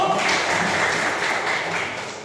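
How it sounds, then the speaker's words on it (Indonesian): A classroom audience claps together in a steady, dense burst of applause that holds for a couple of seconds before easing slightly. "Tepuk tangan dulu."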